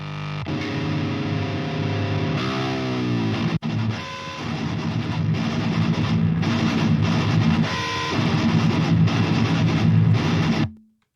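A heavily distorted electric guitar played through a Neural DSP Omega amp plugin plays loud, sustained chords and riffs, with a brief cut in the middle, ending with the notes ringing out.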